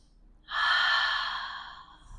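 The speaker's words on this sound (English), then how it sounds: "take a breath" A single long exhale, close and clear, rises sharply and fades slowly over about two seconds in a quiet room during a yoga flow.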